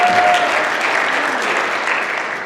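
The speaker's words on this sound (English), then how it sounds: "Let's one more round of applause." A pageant audience applauds its officers with dense, steady clapping that stays loud and even for a couple of seconds.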